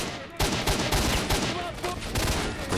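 Dense, rapid gunfire from the video game S.T.A.L.K.E.R.: Shadow of Chernobyl, with loud, close bursts of automatic shots packed tightly together and continuing almost without pause.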